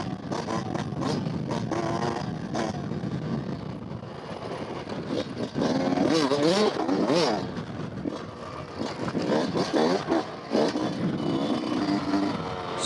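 A 2020 Yamaha YZ125X 125cc two-stroke off-road motorcycle engine screams at high revs while riding, buzzing and rising and falling steadily for the whole stretch, with brief voice-like sounds over it.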